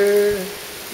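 Heavy rain hisses steadily at the entrance of an archive building during a violent rainstorm, a dense close wash of falling water with a brief tone fading early on.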